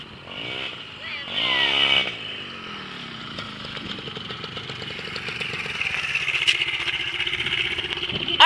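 Dirt bike engine running nearby, a buzzing two-wheeler tone that swells briefly then holds a rising steady drone, with people's voices heard over it.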